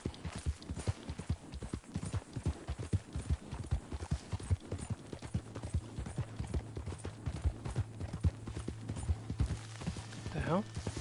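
Horse galloping in Red Dead Redemption 2, rapid hoofbeats pounding close and continuous, with a low steady drone joining partway and a voice talking briefly near the end.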